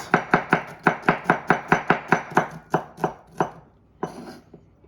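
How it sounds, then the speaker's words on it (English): Knife slicing garlic thinly for a Caesar salad, a rapid run of about fifteen crisp, evenly spaced board taps close up, slowing toward the end with a short pause before a final couple of cuts. "So to cut the garlic, some thin slices."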